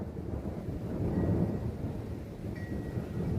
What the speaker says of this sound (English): Listen to that thunder.